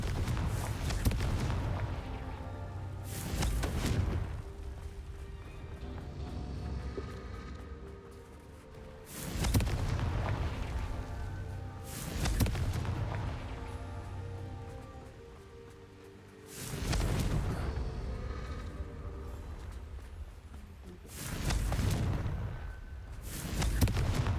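Heavy booming blasts from the Confringo explosive spell in the Hogwarts Legacy video game, several deep explosions spaced a few seconds apart, each with a rumbling tail, loud and close.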